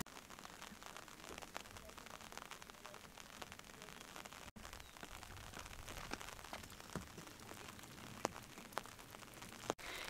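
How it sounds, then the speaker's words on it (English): Faint, steady hiss of rain falling on a surface, with occasional soft pattering drops, at an off-grid homestead in Portugal. "even though it's raining"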